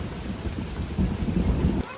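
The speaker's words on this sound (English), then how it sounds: "Some pretty big hail for Las Vegas." Hail pelts down hard during a storm at Lee Canyon on Mount Charleston near Las Vegas, a dense, rattling patter of stones that swells louder midway before dropping off sharply.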